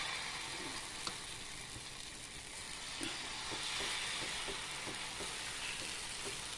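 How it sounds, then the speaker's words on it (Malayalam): Wheat dosa batter sizzles on a hot pan, a steady, fairly close frying hiss with faint crackles and soft scraping. "ഇതിനി നമുക്ക് പാനിൽ ചൂടാകുമ്പോൾ അതിലേക്ക് കോരി ഒഴിച്ച് ഗോതമ്പ് ദോശ നമ്മൾ ചുട്ടെടുക്കുകയാണ് ചെയ്യുന്നത്"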